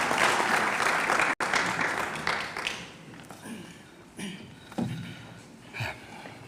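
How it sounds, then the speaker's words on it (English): Audience clapping for a speaker at a regulations launch event in a hall, a steady burst that fades into scattered claps with a brief dropout partway through. "Applause to Keith Doyle from Ingo Forum."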